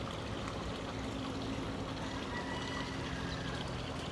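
A clear creek flowing through a preserved acacia area, heard as a steady, soft rushing and trickling wash of water, continuous and fairly quiet with no talking.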